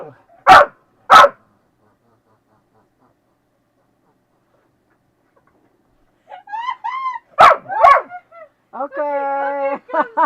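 A dog barks twice, sharp and close, then after a long silence gives a few whining yelps and two more loud barks, ending in a drawn-out whimpering whine indoors at night.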